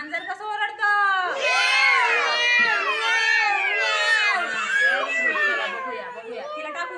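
Several children imitate a cat's meow during a classroom learning game, their high wavering cries overlapping loudly and close by, continuing without pause.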